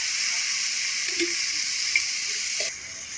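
Date palm jaggery (patali gur) sizzles and hisses steadily in a hot wok, a close, bright frying crackle with a faint stir near the end and no voices.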